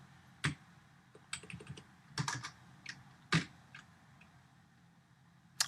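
Code is typed on a computer keyboard, with scattered close key clicks in small irregular clusters and one or two louder keystrokes standing out, no voices.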